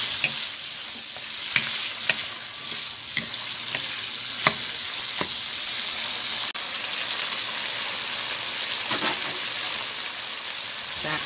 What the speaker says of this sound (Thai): ใส่ดอกกระหล่ำลงไปค่ะดอกกระหล่ำสุกง่ายเนาะ ลงไปผัดก่อน